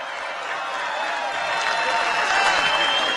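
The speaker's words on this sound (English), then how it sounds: "One last round of applause for your 2016 MLS champions." A large outdoor crowd at the Seattle Sounders 2016 MLS championship parade applauds and cheers, a broad, dense roar of clapping that swells slightly louder toward the end, with voices mixed into it.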